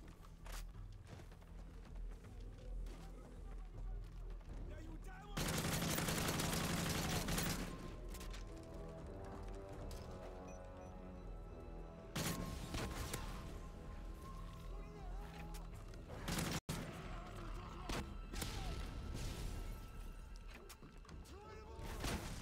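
Rapid gunfire and crashing impacts from a turret fight in Call of Duty: Modern Warfare 3 Special Ops, with loud sustained bursts and sharp hits mixed with game music.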